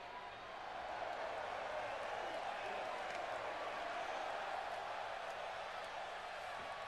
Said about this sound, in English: Entrance music and everything switched off. All you should be able to hear is crowd noise.